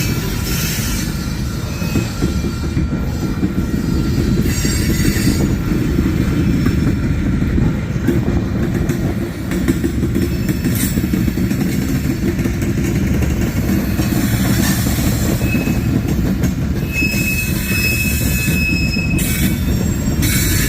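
A Union Pacific train rumbles past steadily, with high metallic wheel squeals ringing out intermittently over the continuous low roar of the cars.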